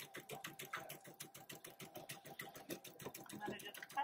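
A PFAFF embroidery machine stitching a design, its needle giving a fast, even mechanical clatter at close range, quiet and continuous, with a person talking over it.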